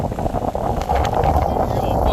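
Strong wind at Dhanushkodi roars and buffets the microphone in a continuous low rush, loud and close.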